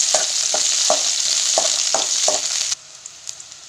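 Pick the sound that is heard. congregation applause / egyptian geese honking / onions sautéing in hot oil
onions sautéing in hot oil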